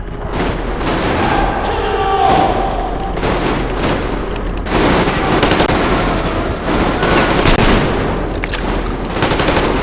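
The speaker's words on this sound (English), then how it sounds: "Covering fire for the Colonel! No saving ammo!" Sustained automatic gunfire laying down covering fire in the video game Metro Exodus, a loud, dense and continuous stream of rapid shots with overlapping bursts for the whole stretch.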